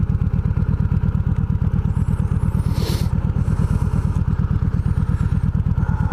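A motorcycle engine runs while riding, a loud close rhythmic thumping pulse that holds steady the whole time, with a brief gust of wind noise partway through.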